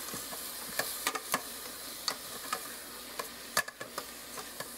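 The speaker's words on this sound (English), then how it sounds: "Get that all stirred up in there, all incorporated." A spoon stirring sauce seasoned with ground thyme in a pot for homemade spaghetti, with scattered light clicks and scrapes against the pot over a soft simmering hiss, no talking.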